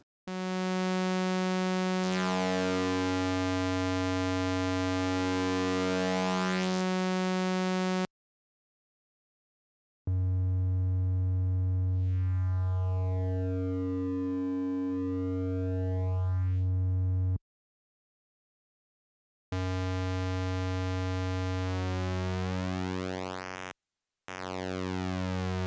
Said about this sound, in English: Both contain a nice variety of waveforms including sawtooth, triangle, square, and noise on the second oscillator, and a shaping knob for each.